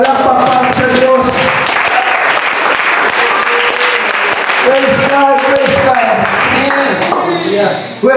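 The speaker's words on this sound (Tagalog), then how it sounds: "Palakpak para sa Diyos." A church congregation claps steadily and loudly throughout a worship service, with held musical tones ringing beneath the dense applause and a voice calling out over it.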